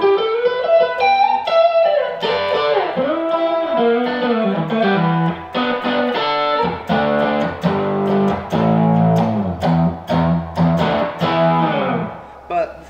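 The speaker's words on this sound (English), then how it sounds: "So the neck pickup, just full humbucker, kind of sounds like this." Electric guitar through the neck pickup in full humbucker mode, played loud with a fat, beefy tone, strummed chords and single-note runs with some distortion and crisp high end, no talking.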